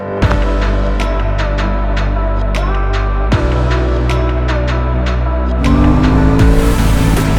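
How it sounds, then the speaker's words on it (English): A 2021 Aprilia Tuono 660 motorcycle engine idling loud and close with a steady throbbing hum, punctuated by sharp blips of the throttle and rising to a harder rev near the end. "Wow, listen to that motor"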